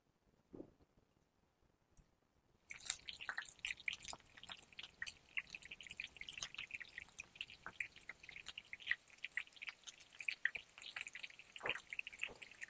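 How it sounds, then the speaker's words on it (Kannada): Breaded mushroom nuggets deep frying in hot oil, a dense steady crackle and sizzle that starts abruptly after a quiet moment and continues with popping bubbles, close and alone. "ಸೊ ಈಗ ಇಲ್ಲಿ ನಾವು ಮಶ್ರೂಮ್ನ ಡೀಪ್ ಫ್ರೈ ಆಗೋದಕ್ಕೆ ಇಟ್ಕೊಂಡಿದೀವಿ."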